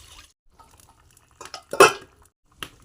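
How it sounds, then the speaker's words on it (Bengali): Water is poured into cooked masala in a pan for an egg and potato curry, a brief splashing burst after a few faint clinks and taps, close and fairly loud, ending with one more light knock. "জল দিয়ে দেবো"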